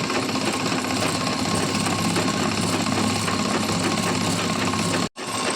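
Sewing machine stitching the front side of a housecoat at a tailoring shop, a steady loud mechanical whir that runs continuously and cuts out abruptly for a brief moment near the end.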